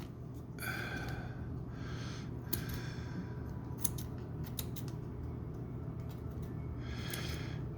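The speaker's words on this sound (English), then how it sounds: "I'm going to cut this much off because all that excess was unnecessary" Close scissors snipping excess material off a He-Man action figure being kitbashed into Thundarr, several quick crisp cuts in irregular bursts over steady background hiss, no talking.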